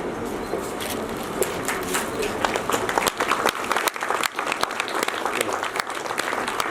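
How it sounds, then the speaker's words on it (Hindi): An audience at a book launch during a closing session at Ramjas College, Delhi University, claps loudly and continuously, with scattered bird coos and some murmured voices mixed into the dense applause. "जोरदार तालियों के साथ में"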